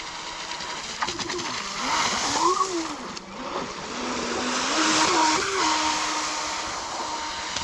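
Pro Boat Jetstream RC jet boat on 4S power running on a lake, a thin whining motor tone that rises and falls as it accelerates and turns, heard at a moderate distance over ambient noise.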